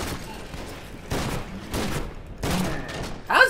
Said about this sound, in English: How's this an automatic shotgun?